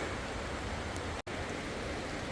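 Rain falling on a mountain cliff, a dense, even hiss of steady rainfall heard close, with a momentary dropout partway through and no voices.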